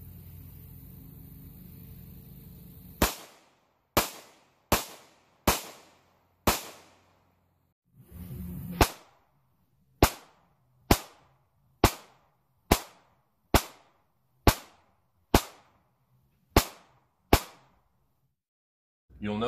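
A Ruger Max-9 pistol fires a series of about a dozen sharp, separate gunshots at uneven intervals, each crack followed by a quick decay.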